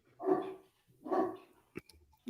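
A dog barks twice in loud, drawn-out bursts about a second apart, followed by a few short, sharp knocks.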